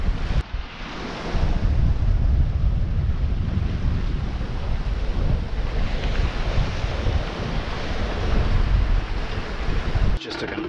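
Wind and ocean waves roar steadily around a sailboat on a beam reach in 15 to 20 knot winds between the Azores and Ireland, a loud continuous rush with surging water that breaks off sharply near the end.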